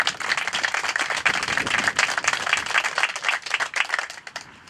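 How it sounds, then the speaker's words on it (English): A crowd claps steadily at an outdoor ribbon cutting for the Leavenworth Business and Technology Park. The dense, even applause runs for several seconds, then thins and fades at the end. "Let's give these organizations a round of applause."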